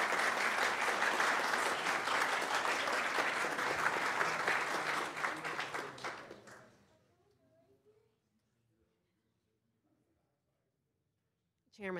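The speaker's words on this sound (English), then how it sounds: "Let's give them one more great big round of applause and say thank you." Audience applause fills a county board meeting room, loud and steady for about six seconds, then fading away to near silence with a brief burst of sound at the very end.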